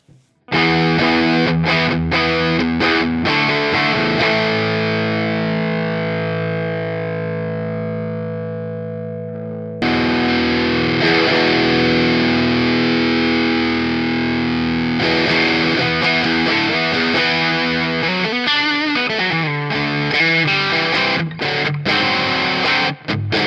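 Electric guitar through a Dumble-style overdrive pedal with its bright switch on, gritty overdriven tone, first a sustained ringing chord that fades, then busier distorted chords and riffs, loud and close.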